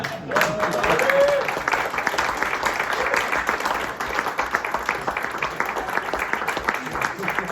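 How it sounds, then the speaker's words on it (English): Applause from an audience at a comedy show in a bar and grill, a dense steady clatter of many hands clapping throughout, with cheers rising near the start. "Oh, keep it going for Tyler Jones."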